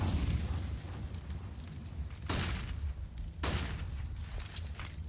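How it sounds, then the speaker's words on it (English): Molotov cocktail burning in CS:GO on the Cache map, a crackling fire roar with two sharp whooshing bursts amid distant gunfire and ambience. "he throws a Molotov towards Checkers"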